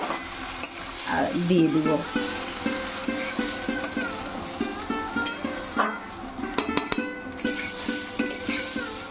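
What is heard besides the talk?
ingredients frying in a pan for khichuri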